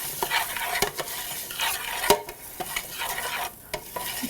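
Lentils and onions are stirred in salty oil in a pot, with scraping spoon strokes and soft clacks over a faint sizzle, repeated at an uneven pace.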